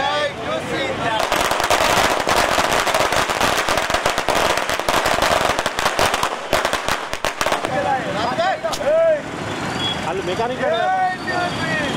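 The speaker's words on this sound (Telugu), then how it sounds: "టపాసులు పేలుస్తూ సంబరాలు నిర్వహించారు" Firecrackers burst in a dense, crackling barrage at a union victory celebration at a town junction in Telangana, loud and close, continuing for several seconds before thinning to scattered pops, with voices and street noise underneath.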